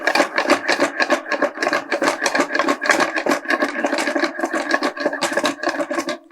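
Egg is stirred into radish kothu curry in a pan, producing rapid rhythmic scraping and rubbing strokes of a utensil against the pan, close and fairly loud, with no talk.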